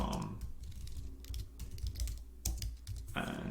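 Rapid clicking keystrokes on a computer keyboard as a database query is typed, a steady close-up patter with a few louder key strikes.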